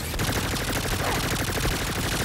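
Sustained rapid automatic gunfire rakes an RV in the Saints Row video game, a dense, continuous, loud barrage of overlapping shots with no pauses.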